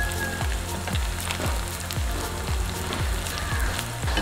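Chicken pakoda frying in oil, a steady close-up sizzle with a regular pattern of soft low knocks underneath.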